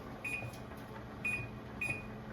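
An oven timer being set to 45 minutes for birria sounds three short, thin electronic beeps at roughly one-second intervals, faint over a low kitchen hum.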